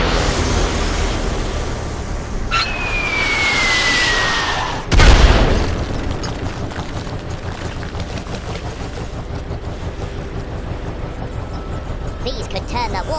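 Bombs explode in the Worms W.M.D video game: a descending whistle drops before one heavy booming blast, followed by rumbling debris and game noise, with voices speaking over it.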